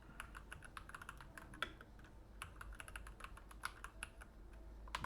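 Fast, irregular clicking of keys on a computer keyboard, fairly faint and close, as code is typed in steady bursts with a low background hum and no voices.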